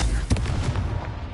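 A single Confringo blasting spell explosion from the Hogwarts Legacy video game lands as a short, heavy, booming blast with a low rumbling tail.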